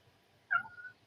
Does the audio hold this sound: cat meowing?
yes